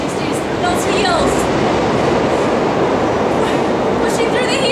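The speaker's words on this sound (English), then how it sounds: "You hear that train in the background, authentic downtown Chicago." A train rumbles past in downtown Chicago, a loud, steady roar with faint metallic squeals and clatter filling the whole stretch, heard outdoors during a TRX circuit workout.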